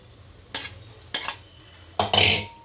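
Pasta tipped into a pan and stirred for a corn pasta dish: three short scraping, clattering bursts, the last longest and loudest, with quiet pauses between.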